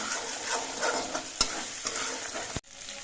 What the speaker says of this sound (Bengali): নেড়ে চেড়ে মিশিয়ে নিতে হবে